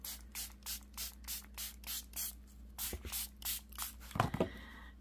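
A spray bottle spritzes ink in a quick steady run of about ten short, close bursts at an even pace, followed by a little handling noise, with no talk.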